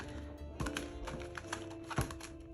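A large tarot deck being shuffled, the oversized cards awkward in the hands, gives a run of quick papery clicks and riffling taps close to the microphone over a faint steady hum.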